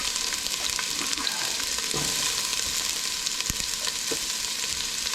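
Onions tossed into a hot pan while making cabbage soup produce a continuous hissing sizzle with occasional small pops and stirring clicks, moderately quiet and without speech.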